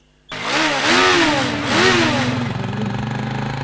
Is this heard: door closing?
no